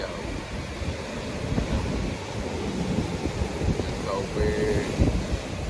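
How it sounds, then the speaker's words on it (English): Waves splash on coral reef rock at a Cozumel shore bar, a continuous rough wash mixed with wind buffeting on the microphone, while people talk nearby. "waves, splashing on the coral reef, rock"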